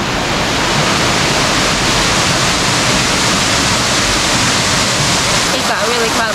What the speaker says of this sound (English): Check that waterfall out.